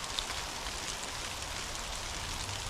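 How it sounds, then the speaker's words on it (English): Hail falls outdoors in a spring garden as a faint, steady patter of small pellets hitting surfaces, with a few slightly sharper ticks. "Looks like it's starting to hail."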